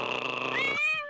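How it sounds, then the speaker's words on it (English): A cat meows in the Scooby-Doo on Zombie Island movie, one drawn-out, rising meow that is close and clear against a faint background. "Now, those cats are fucking with Scooby."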